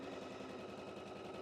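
A sewing machine stitches quilt borders with a faint, steady mechanical whir and a quick, even rhythm that runs without pause.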